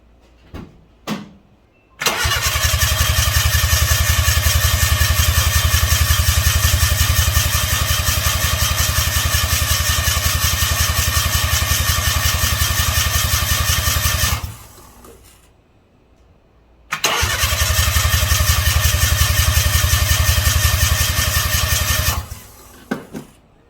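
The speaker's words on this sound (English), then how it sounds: "so it's just going to crank. It's not going to start" A Mitsubishi 4G15 engine fitted with a GT3582 turbocharger cranks without starting to prime oil, producing a loud, rapid rhythmic churning in two long bursts separated by a short pause.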